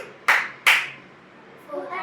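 Two sharp, close hand claps ring out in quick succession during a classroom clapping-and-snapping counting game, followed by a voice speaking.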